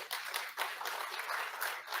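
Faint, distant applause from a conference audience at a panel session on organics and climate, a soft steady patter of clapping lasting about two seconds.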